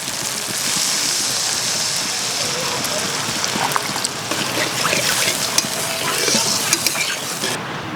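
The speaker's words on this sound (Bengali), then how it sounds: "লবণ দিয়ে দিলাম, মশলাটা বাজিয়ে নিতেছি।" Ground coriander paste and spices fry with salt in a hot pan, a steady close sizzle under occasional scraping stirs, with a voice talking over it.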